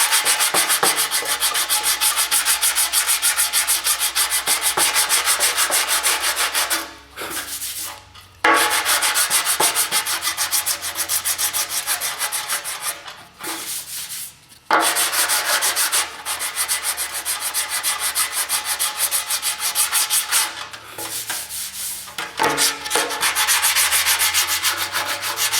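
Hand sanding of car bodywork filler, with loud, continuous, close scratchy strokes that stop briefly a few times and then start again.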